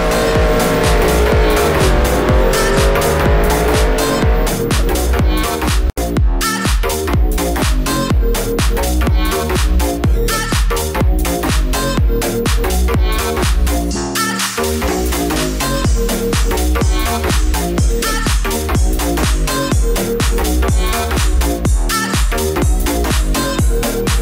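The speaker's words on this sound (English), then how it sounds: "start drifting with this Mustang in the lovely game that is Project Cars" A Ford Mustang GT drifts in Project Cars, its engine revving hard and rising and falling continuously while loud tire squeal and skidding run almost without a break.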